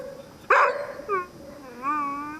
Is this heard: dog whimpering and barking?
yes